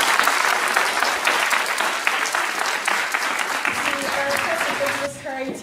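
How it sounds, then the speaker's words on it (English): School assembly audience applauding young staff, a loud, dense wave of clapping from a large crowd that is joined near the end by a voice and a brief tonal sound as it fades. "so another round of applause for our wonderful young staff"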